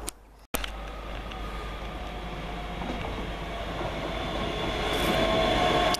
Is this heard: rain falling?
no